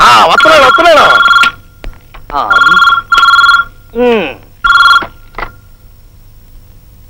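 A telephone bell rings loudly and close in repeated short bursts, with a voice speaking at the start and between rings.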